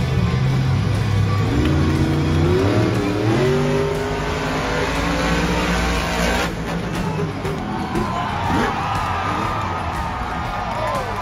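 ThunderROARus monster truck engine at the Nashville World Finals: a loud roaring engine revving and shifting pitch in an arena, with crowd cheering mixed in.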